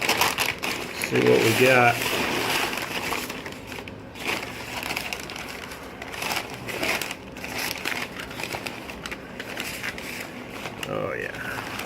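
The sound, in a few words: unwrapping dry-aged beef brisket from UMAi dry age bag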